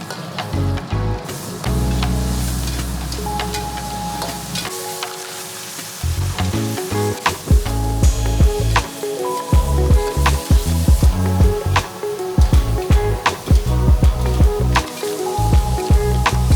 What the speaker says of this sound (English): The crab was boiled quickly and then stir fried up with some butter and black pepper.